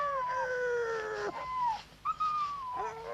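Dogs howling in long, wavering cries that rise and fall, with two drawn-out howls separated by a brief break, close and fairly loud with no talk over them.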